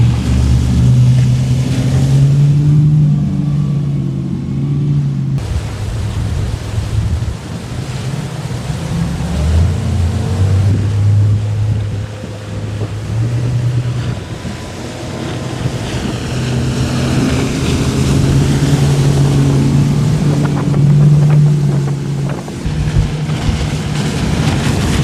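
Motorboat engine droning steadily as the hull runs over a big sea swell with little chop, the tone rising and dipping with the waves, a broad wash of wind and water noise close on the microphone, no voices.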